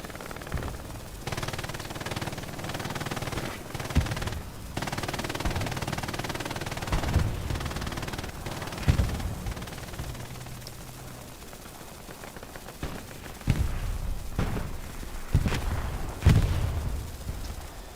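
FG-42 automatic rifle fire in a WWII video game match, a building held under sustained fire: scattered sharp bursts and shots amid distant rumbling battle noise, moderately loud and irregular.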